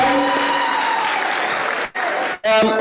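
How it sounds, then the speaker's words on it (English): Applause from an audience at an organization's annual general meeting and tenth-anniversary celebration, dense clapping for most of the stretch and briefly broken by two short dips near the end. "a round of applause from ourselves. Clap more hands."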